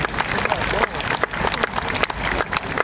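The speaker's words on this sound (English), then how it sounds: "So that's a round of applause for that work, I think." An outdoor audience applauds after a police dog display, with steady, fairly loud clapping throughout and a voice talking faintly underneath.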